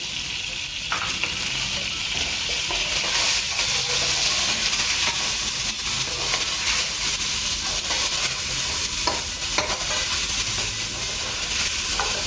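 Chopped ginger and garlic hit a hot pan for mutton pulao, giving a steady loud sizzle and hiss that runs unbroken for over ten seconds, with faint stirring scrapes.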